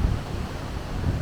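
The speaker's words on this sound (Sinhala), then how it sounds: "ඒ වගේම හුලඟ මාරම හුලඟක් තියෙන්නේ" Strong wind blowing outdoors in a forested area near Talagune and Yahangala, a steady low rushing buffet against the microphone with slight gusts, no other clear sounds.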